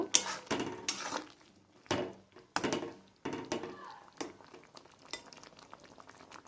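After the lid comes off, a pot of sour tamarind, tomato, sweet potato and onion-greens curry is stirred, giving quiet, intermittent scraping strokes of a utensil against the pot with a faint simmer between them.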